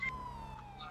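Police siren from a GTA 5 police chase, a wailing tone sliding steadily downward with a brief higher whoop at the start, fairly close and loud with no talk over it.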